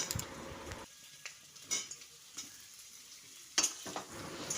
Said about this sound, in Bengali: এবার আলুটা দিয়ে বেশ কিছুক্ষণ নাড়াচাড়া করে নেব